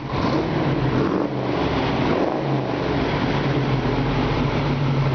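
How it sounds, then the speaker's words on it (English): A 1959 Chevrolet Corvette engine runs with a steady, loud, broadband exhaust rumble and low droning tone, heard up close and without talk. "Got a really, really good sounding exhaust."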